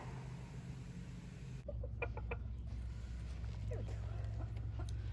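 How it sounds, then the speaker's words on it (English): Silkie chickens cluck softly nearby in a coop, scattered short clucks over a steady background hum, with no one talking. "Most of the chickens in our coop here are silky chickens"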